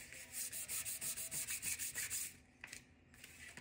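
Super fine wet-dry sandpaper rubbing in quick, steady back-and-forth strokes for a couple of seconds, close and fairly loud, then easing into a few lighter, scattered scrapes.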